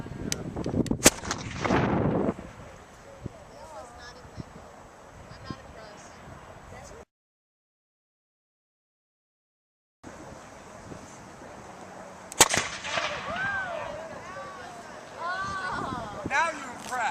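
A big potato launcher called Big Daddy fires at a science demonstration, giving two sharp, loud bangs, one near the start and one late, amid wind buffeting and people talking outdoors, with a brief dead gap between.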